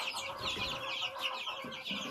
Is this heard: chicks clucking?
yes